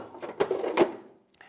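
The small chaff-collection drawer of a Gene Café CBR-301 coffee roaster slides with two close, sharp clacks and a brief rattle, then quiets.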